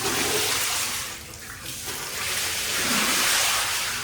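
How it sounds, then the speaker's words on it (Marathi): Water poured across a floor during washing, a steady broad wash of splashing and running water that dips briefly midway and then swells again, close by with no voices. "काम फक्त पाणी टाकायचं करताय."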